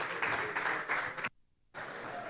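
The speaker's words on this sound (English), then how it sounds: "let's give a big round of applause for Alexis" Audience applause for a keynote speaker at a tokenized capital summit in Miami, a dense wash of clapping that cuts off abruptly to near silence before resuming.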